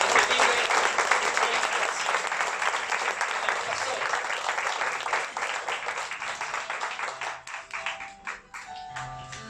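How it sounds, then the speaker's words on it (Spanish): A church congregation claps in loud, sustained applause at a Spanish-language service, dense and continuous before thinning into scattered claps near the end. "Dale un aplauso fuerte"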